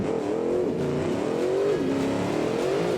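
Three-wheeled car in the BeamNG driving game accelerating hard down a drag strip, engine note climbing steadily through gear changes with a brief dip near the middle, loud and continuous throughout.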